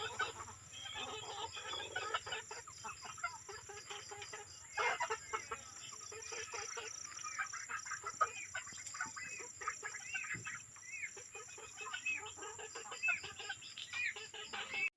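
Chickens cluck in a backyard coop in the late afternoon. Soft, overlapping clucks and calls continue throughout, fairly faint, with no talk.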